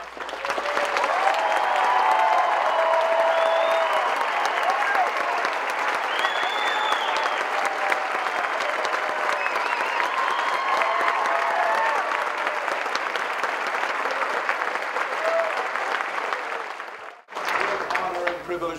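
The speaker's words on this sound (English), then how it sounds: "So one more round of applause." Long, loud round of audience applause for actor Philip Pleasants after his final Christmas Carol performance in Denver, dense clapping with scattered voices and whoops, ending abruptly near the close.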